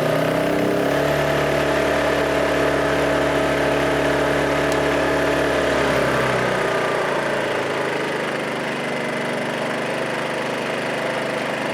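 A WEN 56203i 2000-watt inverter generator, after a carburetor cleaning, runs close by with a steady engine drone that drops to a lower, quieter idle partway through as eco mode settles in.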